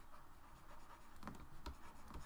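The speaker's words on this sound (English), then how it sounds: "I'm just going to write point here." Chalk or a marker scratches across a board during a trigonometry maths lesson, faint soft scraping strokes with a few sharper taps, close by and without talk.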